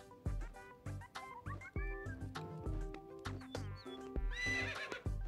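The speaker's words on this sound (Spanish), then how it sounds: "Un caballo cantando no me sorprende." A singing horse in the Toca Life World video game neighs and whinnies in a string of melodic, pitch-sliding cries, loud and close, with no talking over it.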